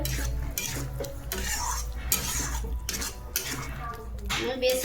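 Paneer chilli is stirred in a pan, with a spoon scraping and clinking against the metal in a steady rhythm over a soft sizzle.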